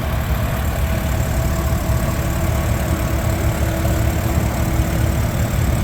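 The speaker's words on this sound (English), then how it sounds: "Here we have a Farmall Super C. It's a 1953." A 1953 Farmall Super C tractor idles at a steam power show, its engine chugging in an even, continuous rhythm at close range with no voices.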